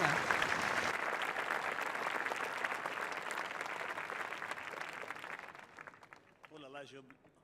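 A crowd at the ancient Roman theatre in Arles applauds to welcome an artist, a long dense ovation that gradually thins and fades before a voice speaks near the end.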